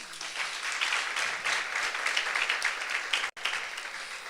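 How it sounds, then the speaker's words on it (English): Youth seminar audience applauds in a sustained, fairly even round of clapping, moderately distant, with a very brief dropout near the end. "Can we give her a round of applause?"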